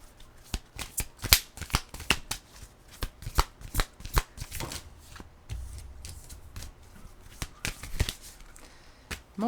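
Tarot cards shuffled in the hands, a fast run of crisp riffles and soft slaps close to the mic, in irregular bursts across the whole stretch.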